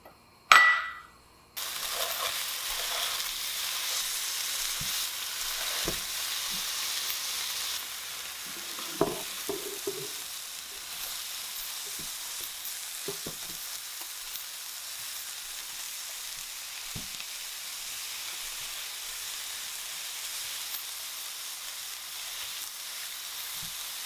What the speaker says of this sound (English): While our sauce is warming, we'll cook up our ground beef, and I have a 1/2 green pepper cut up here.